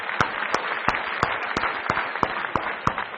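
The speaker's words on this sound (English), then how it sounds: "a round of applause for the top 10 finalists" Sharp, evenly spaced claps at a startup competition event, about ten distinct hand strikes in a steady rhythm, close and fairly loud, more like a single clapper keeping time than a full crowd.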